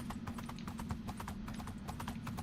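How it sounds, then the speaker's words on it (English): Horse hooves clip-clopping in the Minecraft video game: a steady, quick series of light hollow clops at a trotting rhythm, close and consistent throughout over a low background hum, with no talking. "Damn horse."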